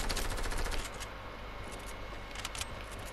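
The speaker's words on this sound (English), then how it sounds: "Why am I missing every freaking shot I shoot?" Rapid gunfire in a shooter video game, with a fast burst of shots up front that thins into a quieter rattle of scattered shots, fairly faint overall.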